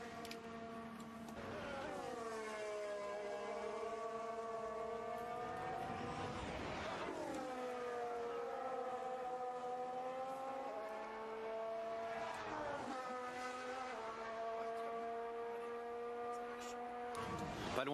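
Formula 1 car on soft tyres running Belgian Grand Prix practice at Spa, its high engine note rising and falling through gear changes and sweeping pitch dips, steady and loud throughout with commentary voice faintly underneath.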